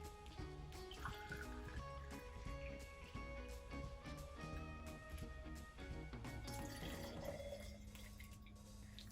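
Absinthe, 1.5 ounces, is poured into a champagne flute for a Halloween cocktail, a faint liquid trickle and drip against a bed of steady background music, with no voices.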